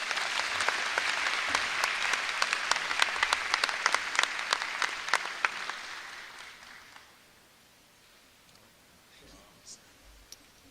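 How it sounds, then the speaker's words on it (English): A FAMU graduation crowd gives a sustained round of applause, dense clapping with sharp individual claps standing out, which fades around seven seconds into quiet room tone with a few scattered claps. "Please join me in a warm Rattler round of applause."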